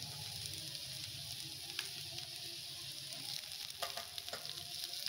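Cauliflower is tipped into hot oil over frying food for samosa filling, a dense continuous sizzle near the pan with scattered crackles and light stirring clicks.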